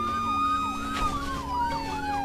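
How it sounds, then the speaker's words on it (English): Fire engine siren in the Brick Rigs game, a loud wailing siren with rapid up-and-down yelp sweeping over a steady engine hum, close and continuous. "Ah, I see a fire engine."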